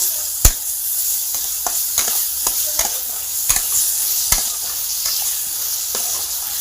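Mashed boiled potato being stirred into simmering gravy in a pan, giving steady soft scraping strokes with a few sharper clicks of the spoon against the metal over a continuous sizzle.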